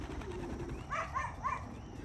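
Pigeons just released from their loft coo in a short series of three soft, rolling calls, close by over outdoor background noise on a drizzly day.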